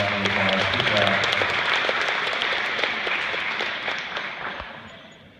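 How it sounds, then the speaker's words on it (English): Audience round of applause at a high school after-prom hypnosis show, broad clapping that is loud at first and gradually fades, with a voice speaking over it early on. "Give them a round of applause, guys. Nice and loud."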